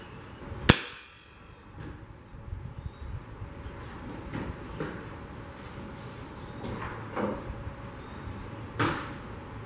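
Sharp rifle shot aimed at a skunk cracks loudly once near the start, then fades into quiet outdoor ambience with soft insect chirps and a few faint clicks.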